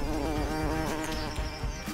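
Bees buzzing around a honeycomb in a children's cartoon, a steady, close insect drone that holds for the whole two seconds, blended with a bright, tonal background.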